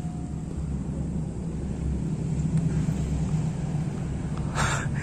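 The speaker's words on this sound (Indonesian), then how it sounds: "Ya suara kereta, karena pabrik ini belakangnya tuh ada rel kereta api gitu." A train runs on rails behind an abandoned factory in Purwakarta, a continuous low rumble that is steady and moderately loud, heard from some distance with no speech.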